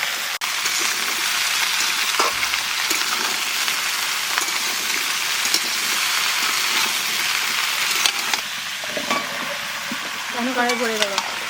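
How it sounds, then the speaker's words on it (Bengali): Vegetables frying in oil in a kadai with dry red chilli and panch phoron, a loud continuous sizzle with stirring clatter. Near the end comes a brief voiced sound. "তেলের উপর দিয়ে দেবো শুকনো লঙ্কা, পাঁচফোড়ন। এইবার সব সবজি দিয়ে দেবো।"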